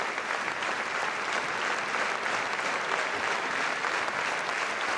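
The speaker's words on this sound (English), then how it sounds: "all precautions being taken, applause all around the stadium" A rugby stadium crowd at France v Scotland in the Women's Six Nations applauds an injured player, a steady, dense wash of clapping from a large crowd that stays even throughout and has no talking over it.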